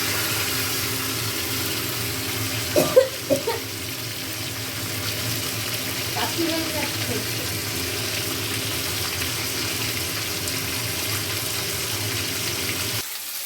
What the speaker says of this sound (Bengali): এই কড়াইতে মাছটা দেখুন হালকা ভাজবো